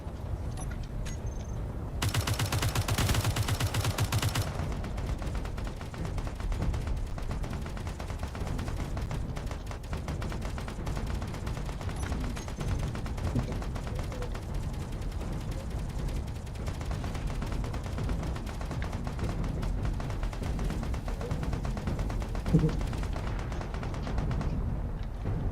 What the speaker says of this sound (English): A lot of shots going back and forth like here.